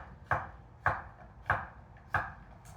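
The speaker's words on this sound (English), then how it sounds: "cut the tops off my courgettes, cut them into quarters, lengthwise" A freshly sharpened knife cutting courgettes lengthwise into quarters on a board: four crisp, evenly spaced chops, close and distinct, with no voices.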